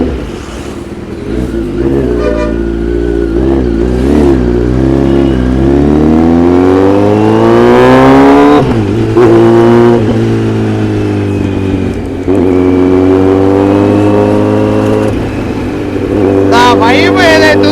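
A Kawasaki Z900 motorcycle engine revs loud and close, its pitch climbing and falling through several throttle blips over a steady idle, with someone talking over the engine noise.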